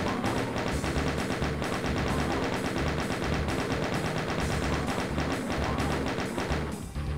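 Relentless rapid-fire chaingun shots from a chaingunner enemy in Doom 2, a dense, loud, unbroken rattle that runs the whole stretch with no pause.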